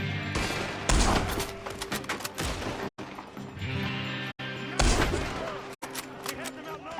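Gunfire rings out from a building in the Western game Red Dead Redemption 2, a dense volley of shots in loud bursts with brief silent gaps between them.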